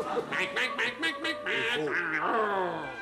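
Ducks at a fair stand quack in a close, lively series of short nasal calls, several overlapping in quick succession throughout.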